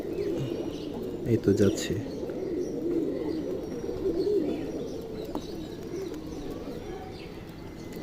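A baby pigeon in a home pigeon house gives soft, low cooing with a few brief chirps, fairly faint against background noise, while someone speaks nearby.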